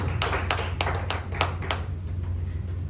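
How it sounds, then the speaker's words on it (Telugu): A church congregation claps in a quick run of sharp, close hand claps that loosens and fades into scattered softer claps over a low steady hum. "అంత చప్పట్లు"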